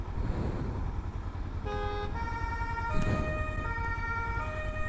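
An emergency vehicle siren with blue lights wails on the road, its steady tones starting partway through and holding over continuous traffic rumble, loud and fairly close, with no talking.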